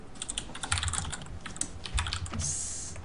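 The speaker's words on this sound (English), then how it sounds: "Dodger, are you typing something" Rapid irregular clatter of keys on a computer keyboard, close and fairly loud, with a steady flurry of clicks and taps throughout and no voices.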